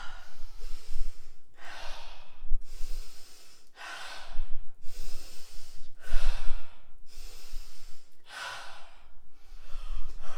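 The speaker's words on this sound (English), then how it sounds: "Now just get those 5 breaths in, lower ones." A person takes a run of deep lower-body breaths during a breathing exercise. About nine slow, airy inhales and exhales come one after another, close and clear, with no talking.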